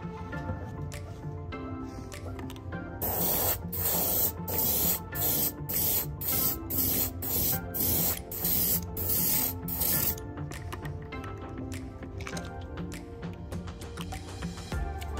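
Aerosol spray paint hissing in short repeated bursts as a first white base coat goes onto a fishing lure, several close, loud sprays over faint background music.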